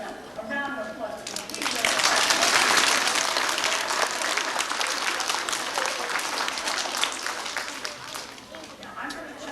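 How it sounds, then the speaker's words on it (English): Schoolchildren at an elementary school tribute assembly break into a dense, loud round of applause that swells after a moment and holds steady for several seconds before tapering, with a voice heard briefly at the start. "Let's give ourselves a round of applause."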